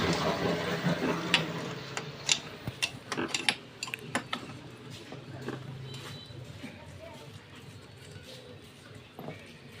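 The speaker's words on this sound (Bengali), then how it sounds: "এখন আমরা পাম্প সেটটা আলাদা করে নিব এই জায়গা থেকে" A submersible pump set being taken apart from its motor, with close metallic clinks, knocks and tool clatter clustered early, then quieter handling, while someone talks.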